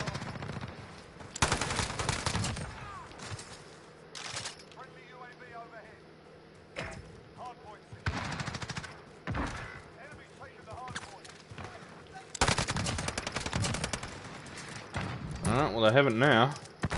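The FiNN machine gun firing in a video game: several loud, rapid bursts separated by quieter stretches of game ambience, with sharp single cracks in between and a voice talking at times.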